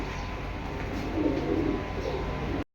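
Domestic pigeons coo softly and steadily at a loft where racer and Budapest birds are kept, a low murmuring that swells briefly midway before cutting off.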